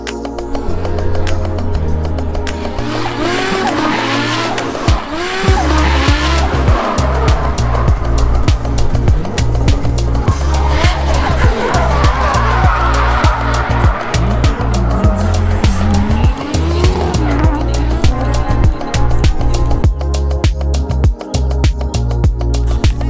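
A Skyline sedan race car on a circuit gives a loud, continuous engine roar that revs up and drops through gear changes and stays close and dominant throughout.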